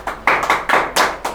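Hands clap in a classroom, a run of about six sharp, fairly loud claps in an uneven rhythm with no talk over them.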